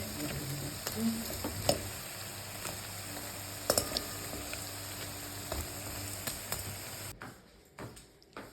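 Quiet, steady sizzling of mushroom pakoras frying in oil, with occasional soft ticks and clinks of a utensil.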